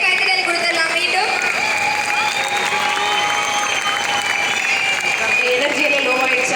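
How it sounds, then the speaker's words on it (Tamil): Sustained applause from an audience at a 2024 Tamil folk music awards ceremony carries on at an even level, with the crowd clapping steadily beneath a continuous tonal backing. "ஒரு பெரிய கைத்தட்டல் கொடுத்துடலாம்."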